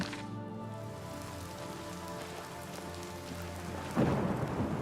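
Steady rain falls in the fantasy game Oblivion, a broad wash of drops on surfaces that swells louder near the end, with a low rumble suggesting thunder and no voices.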